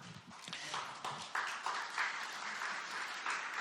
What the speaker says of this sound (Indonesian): Kenapa tepuk tangannya lemes gitu ya?